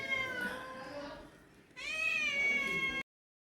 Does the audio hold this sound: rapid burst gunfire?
no